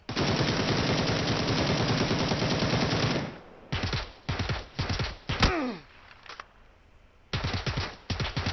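Gunfire in the PUBG battle royale video game, a long sustained automatic burst followed by several shorter volleys of rapid shots, loud and close with brief pauses between bursts.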